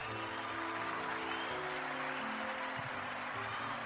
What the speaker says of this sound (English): Miss Alicia Bennett, let me give you some applause.